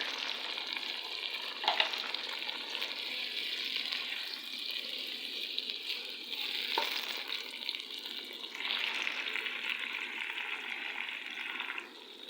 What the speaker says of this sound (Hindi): तो अब हम इनके अंदर मसाले मिक्स करते हैं।